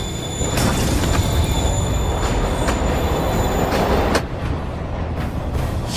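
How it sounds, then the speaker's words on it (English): A train in the video game Spider-Man rumbles along steadily with high, squealing wheel tones over the tracks, and a sharp hiss or clank near the end. "Train moving."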